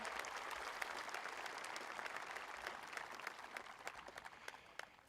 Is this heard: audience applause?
yes